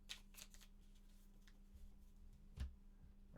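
Lost Ruins of Arnak board game tiles shuffled on a tabletop, soft scattered clicks and slides with a slightly louder knock near the end, quiet and close, over a low steady hum, with no voices.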